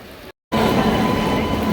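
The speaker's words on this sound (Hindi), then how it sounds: "सो फाइनली हमारी ट्रेन आ गई है," A train arrives at a railway station in heavy rain, a loud, continuous rumble and hiss of rail cars that starts abruptly after a short gap.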